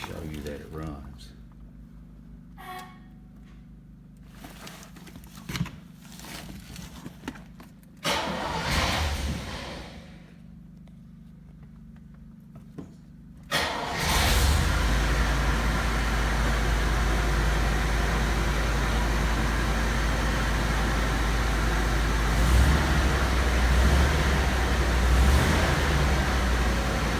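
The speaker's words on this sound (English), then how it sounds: "start this car and show you that it runs" A 1970 Chevelle SS396, long parked, is cranked to life: after quieter shuffling and scattered sounds, the engine catches with a loud burst and settles into a steady, deep, rumbling idle that holds to the end.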